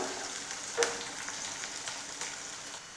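Ginger, garlic, green chilli and curry leaves fry in oil for a beetroot and date pickle, a steady soft sizzle with one sharper crackle early on and faint stirring.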